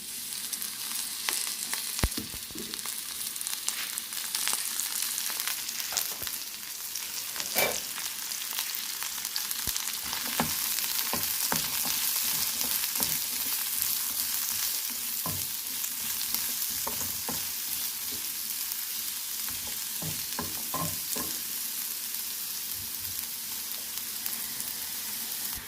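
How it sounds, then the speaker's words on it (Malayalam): Shallots fry in coconut oil in a pan, giving a continuous soft sizzle with scattered pops and crackles and occasional stirring scrapes, fairly quiet and with no talking. "നമുക്കിനി കൊച്ചുള്ളി ഒന്ന് വറുത്തെടുക്കണം"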